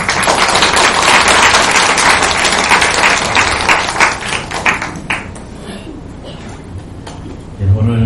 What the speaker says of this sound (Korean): 우리 목사님 나오실 때 박수로 환영하겠습니다